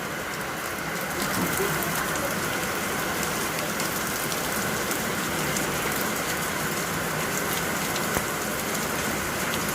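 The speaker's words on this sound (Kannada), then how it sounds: "ಈ ಕಡೆ ಹಿಂದಿನ ಸೈಡ್ ಮಳೆ." Steady, even rainfall patters on a surface nearby, a constant wash of drops with no breaks.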